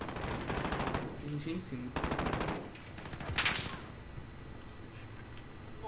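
Call of Duty Modern Warfare (2019) gunfire on the St. Petrograd map plays as two clear rapid automatic bursts, then a sharp whooshing crack, amid game ambience while someone speaks Portuguese over it.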